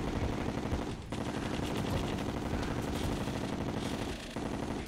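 Rapid gunfire rattles continuously while shooting at a boss in the video game Terraria, with brief pauses and dense, loud bursts of shots.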